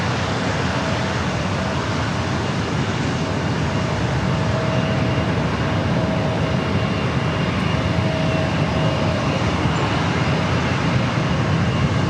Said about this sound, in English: Runway 27, clear for takeoff